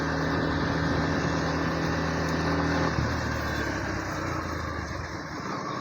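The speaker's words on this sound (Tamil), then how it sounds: "ஸோ இப்போ பார்த்தீங்கன்னா நம்ம ஒரு 40ல் போவோம். ஃப்ரண்ட் பிரேக் மட்டும் அடித்து பார்ப்போம்" A Yamaha FZS version 4 motorcycle rolls along at about 40 under front braking, its steady engine drone loud and close, the low hum easing and thinning midway as the bike slows.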